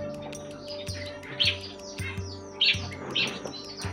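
A pair of Gouldian finches call from a cage, with bright, sharp chirps repeating in short bursts over a steady low indoor hum.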